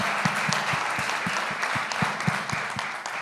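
Audience clapping at a global summit, a full wash of applause with a few distinct nearby hand claps standing out rhythmically, no talk over it.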